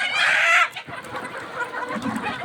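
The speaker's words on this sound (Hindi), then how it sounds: "सब मुर्गे अजान दे रहे हैं।" Roosters on a desi chicken farm crow loudly and close, a long strained call at the start followed by overlapping clucks and farmyard chatter.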